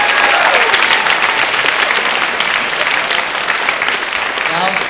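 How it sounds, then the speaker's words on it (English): Sustained audience applause fills the hall at the opening of a high school Model UN conference, dense steady clapping from a large crowd throughout, close and loud. "Clapping is definitely in order."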